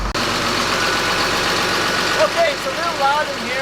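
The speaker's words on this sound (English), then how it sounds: "Big diesel running at 950 RPM" A John Deere 6068 diesel engine idles at 950 RPM inside a boat's engine room, giving a loud, steady, close drone, with someone talking over it briefly near the end.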